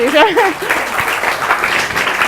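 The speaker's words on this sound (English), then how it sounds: "We'll give them a little applause" A lecture audience gives a brief round of applause, a short patter of clapping hands heard under and after a voice speaking over it.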